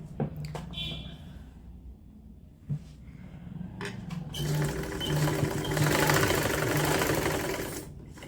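A sewing machine stitches two layers of woolen sock fabric, first with a few brief clicks and short bursts, then a sustained loud rattling run of stitching that fades near the end.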